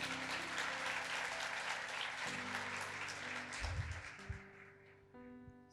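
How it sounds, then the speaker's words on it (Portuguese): Church congregation applauding together, a broad steady wash of clapping that holds for about five seconds and then fades away, with a low sustained organ or keyboard tone beneath it. "Você pode aplaudir Jesus por isso?"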